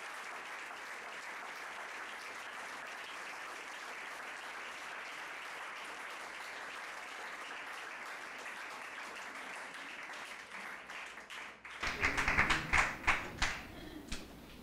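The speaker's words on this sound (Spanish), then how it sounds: "aplauso fuerte." A church congregation applauds with a steady, sustained roar of many hands, then louder, sharper individual claps burst out near the end.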